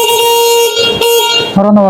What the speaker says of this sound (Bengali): হর্ন কিন্তু